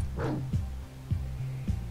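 A dog in the game Always Sometimes Monsters barks three or four times in quick, evenly spaced bursts, close and fairly loud, with no one talking.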